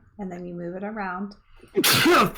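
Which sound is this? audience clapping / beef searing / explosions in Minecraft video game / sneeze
sneeze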